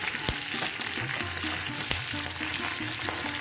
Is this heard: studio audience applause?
no